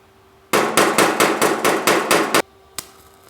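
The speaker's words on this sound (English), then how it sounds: "I think I'll start welding up here and then turn the corner." MIG welding on a GTO restomod body panel, laid down as a quick run of about eight short, loud, crackling bursts with brief gaps between them, followed by a single faint click.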